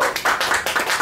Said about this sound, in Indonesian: kita beri tepuk tangan buat Mas Jonet